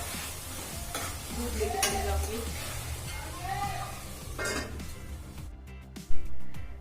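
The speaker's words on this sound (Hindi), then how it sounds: "तो यहाँ पे टमाटर गल चुके हैं और तड़का रेडी हो गया है।" Tomato tadka sizzles and is stirred in a pan, a soft steady frying hiss with a few scraping stirs, while someone speaks briefly over it; a clunk sounds near the end.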